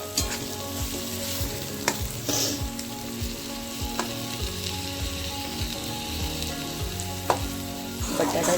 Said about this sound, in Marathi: पुन्हा एकदा चांगलं हलवून घेऊया।